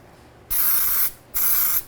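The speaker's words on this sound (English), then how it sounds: "I'm gonna spray it with some baking spray first." Two short, close hissing sprays from a baking spray can into a muffin tin, each about half a second long, separated by a brief pause.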